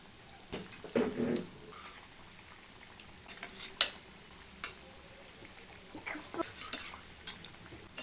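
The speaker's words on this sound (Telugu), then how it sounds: "వీటిని లో ఫ్లేమ్లోనే మంచిగా ఫ్రై చేసుకోవాలి" Wheat flour snacks fry gently in oil over a low flame, producing a soft steady bubbling with a few light clinks and scrapes from turning them in the pan.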